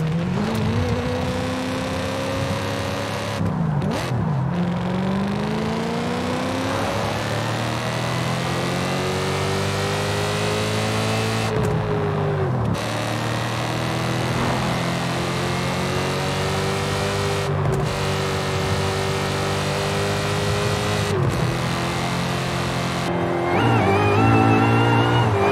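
A car engine in the racing game Forza Horizon 5 revs repeatedly, climbing through gears with sharp drops at each shift, loud and close, running continuously with no talk.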